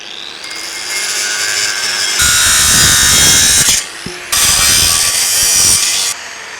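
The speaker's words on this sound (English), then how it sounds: "if you're wondering what grinder I'm using, this is a Makita 7-inch" A Makita 7-inch angle grinder whines loudly as it cuts during tiny home construction, two long bursts of harsh, high grinding separated by a brief drop to a lower hum.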